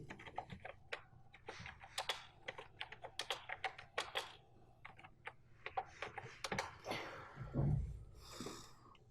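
Rapid close-up typing on a computer keyboard, a quick irregular run of clicky keystrokes with short pauses and a soft breath or sniff near the end, no talking.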